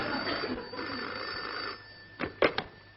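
An old-style telephone bell rings in short bursts, first faintly under a muffled background murmur and then several sharp, close rings near the end.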